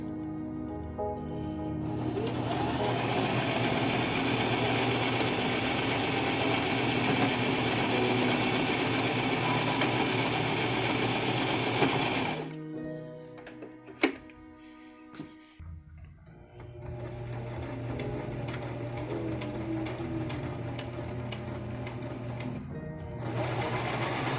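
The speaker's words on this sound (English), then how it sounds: "So we're gonna stitch it." A sewing machine stitches a fabric box, running in a steady loud whir for about ten seconds, pausing with a few clicks and handling noises, then running steadily again until the end.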